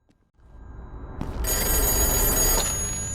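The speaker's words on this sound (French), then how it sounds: "le téléphone sonnera, ce qui attirera l'attention du second frère" A telephone bell rings loudly and steadily, building from quiet into a sustained bright ringing that continues to the end, with no voices present.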